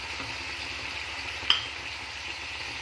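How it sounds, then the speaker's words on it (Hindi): Onions go into a pan where beef steak with steamed vegetables is cooking, giving a quiet, steady sizzle with stirring, cut by one brief clink partway through. "अब मैं इसके अंदर ये प्याज ऐड कर दूँगी"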